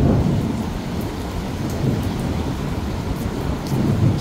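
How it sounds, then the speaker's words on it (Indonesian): Deep, loud thunder rumbles continuously over a dense wash of pouring rain during a storm in Mecca, with occasional sharp drips close by. "suara petirnya menggelegar ini ya"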